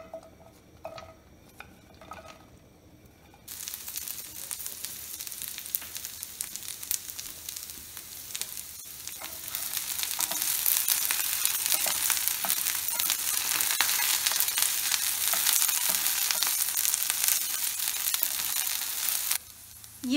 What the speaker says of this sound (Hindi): ये जो कटी हुई भिंडी है इनको फ्राई करते हैं।